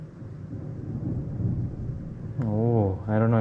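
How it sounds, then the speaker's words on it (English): Low, rolling thunder rumbles faintly in the background of an outdoor grilling scene, a soft continuous murmur. Near the end a person starts talking over it. "I don't know if you guys could hear that in the background with the thunder going on in the back"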